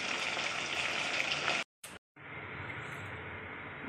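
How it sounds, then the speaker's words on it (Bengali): Homemade banana chips fry in hot oil with a steady, dense crackling hiss that cuts out abruptly for a moment, then resumes at a slightly lower level. "আর একটু আমাদের ভালো করে ভেজে নিতে হবে চিপসটাকে।"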